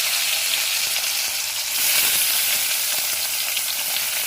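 Pointed gourd fries in hot oil, making a steady, close, bright sizzling hiss that carries on without a break.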